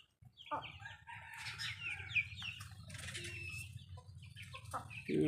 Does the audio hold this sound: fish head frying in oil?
no